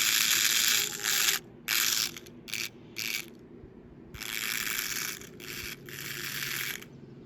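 A Hot Wheels Tesla Cybertruck 1:64 remote-control toy car whirs in repeated short bursts, its tiny motor and gears buzzing on and off with brief gaps, close and fairly loud.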